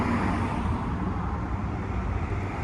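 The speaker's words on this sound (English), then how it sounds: "I'm sorry for the road noise." Steady road traffic noise, a continuous broadband roar of passing vehicles at moderate distance, with no voices.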